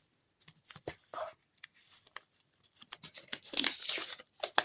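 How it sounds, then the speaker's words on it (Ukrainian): Close crinkling and ripping as a paper packet is torn open, in short irregular bursts with quiet gaps between. "І давайте відкриємо наш пакетик."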